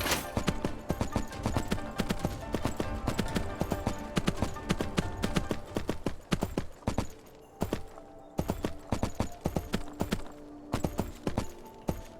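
Horse hooves gallop in the video game Three Kingdoms Zhao Yun, a steady rapid clip-clop rhythm running loud and close, with a brief break midway before the galloping resumes.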